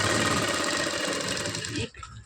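A sewing machine runs steadily while stitching the side seam of a blouse, a close continuous whir that cuts off abruptly near the end, leaving faint handling noise.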